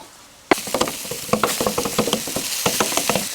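Ground chicken bursts into a loud sizzle as it hits hot avocado oil in a pan, followed by rapid rhythmic scraping and tapping as a spatula chops it apart, close up and continuous.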